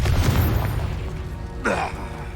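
A Confringo fire-spell explosion in Hogwarts Legacy: a single sudden blast with a swirling whoosh partway through, over a low, steady rumble.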